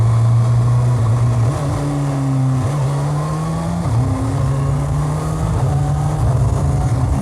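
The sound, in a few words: Kawasaki Ninja ZX6R motorcycle revving, quick shifter upshifts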